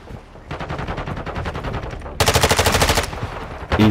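Rapid automatic gunfire rattles in a video game shooter, bursts of tightly spaced shots with a louder, sharper stretch midway and a final burst at the end.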